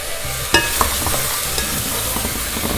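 Mushrooms fry in oil in a pan with a dense, close sizzle while a utensil stirs them, adding a sharp clack near the start and light scraping.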